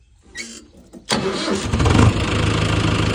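A tractor engine cranks briefly, catches and fires up, then settles into a loud, steady, close idle with a rumbling, rapid chug.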